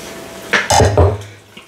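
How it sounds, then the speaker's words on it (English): A quart of home-canned tomatoes is poured into an Instant Pot for chili, making a short run of wet splashing and plopping thuds, close and fairly loud, over a quiet kitchen background. "And then I'm going to put in a quart of my canned tomatoes."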